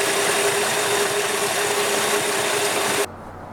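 A Plymouth Valiant engine idles steadily after a valve adjustment and tune-up, a loud, even hum with a faint whine that stops abruptly near the end, leaving quiet.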